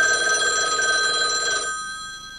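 A telephone bell rings in a scene from the film Klute, a loud, close, shrill ring that holds steady, then cuts off partway through and leaves a fading ring tail.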